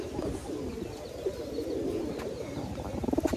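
Giribaj pigeons cooing at a pigeon farm in Rajshahi, low soft rolling coos repeating close by, with faint chirps and background murmur.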